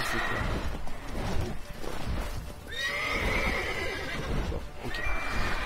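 A horse in The Witcher video game whinnies loudly and shakily over a busy game soundscape, with hooves clopping and a second shorter neigh near the end.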